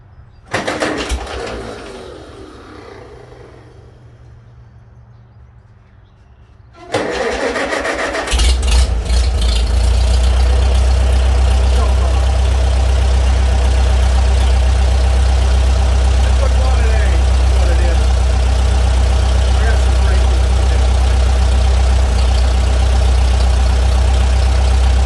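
Farmall A tractor engine cranking and catching, then settling into a loud, steady close-up idle that runs on continuously after a quieter stretch of handling beforehand.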